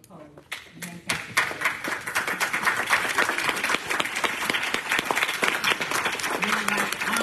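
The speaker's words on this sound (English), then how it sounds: "give our First Lady, Sister Angela Cole, a hand clap" Church congregation at Blair's Chapel C.M.E. clapping hands in a service, a few scattered claps building quickly into sustained, dense applause that continues to the end, with a faint voice or tone underneath.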